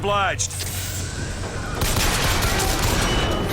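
Sustained gunfire in the video game Bioshock Infinite, dense rapid shots running loud and continuous after a brief opening noise.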